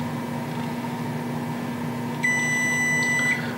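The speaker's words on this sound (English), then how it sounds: "you hold M1 or M2 for 5 seconds until you hear the beeping sound" The keypad of a Calypso height adjustable bed base gives a single long electronic beep as a memory position is saved, sounding clearly over a steady low motor hum.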